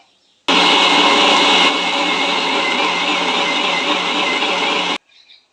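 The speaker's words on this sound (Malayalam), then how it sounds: "ഇനി ഇതിനൊന്ന് നമുക്ക് മിക്സിയിലിട്ട് നല്ലതുപോലെ ഒന്ന് അടിച്ചെടുക്കാം" A mixer grinder blending ripe mango with sugar whirs loudly and steadily for about four seconds, starting abruptly and cutting off just as suddenly, with no talking.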